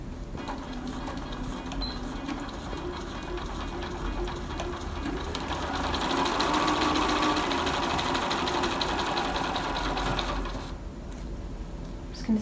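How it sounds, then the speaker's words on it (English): A sewing machine stitches around the edge of pinned fabric fitted with a Spanish hemstitch attachment, a steady, fast mechanical whirr and needle chatter that swells a little in the middle, then stops with a click. "Okay, so I'm all pinned together, and I'm just going to sew around the edge."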